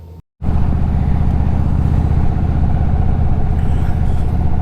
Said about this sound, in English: we're out cruising in the new Sport Chief RT